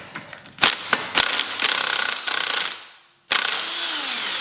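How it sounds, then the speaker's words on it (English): A small screwdriver jammed in to lever out a motorcycle rear axle during a cafe racer rear-wheel removal: close, loud metallic clicks and ratcheting scrapes, a brief gap, then a sustained grinding metal rasp. "We're just going to jam a little screwdriver in there."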